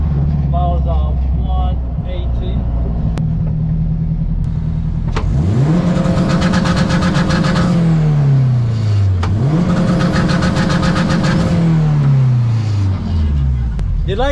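A turbocharged 450 bhp Honda Civic EK revs and accelerates hard twice, each pull rising in pitch through the gears and then winding down, after a stretch of lower engine drone heard from inside the car.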